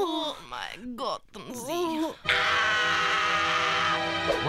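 A scream voiced in a told story performance, rising as a loud, sustained, harmonically rich cry after a stretch of expressive spoken dialogue.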